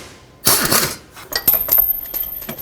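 A metal bolt drops onto a garage floor during serpentine belt and tensioner work on a Chevrolet Express van, giving a sharp close clatter followed by a few lighter bounces and rattles.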